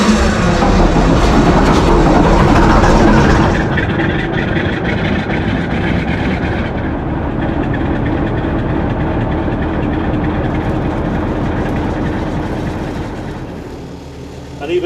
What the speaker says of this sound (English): And even though the engine's now running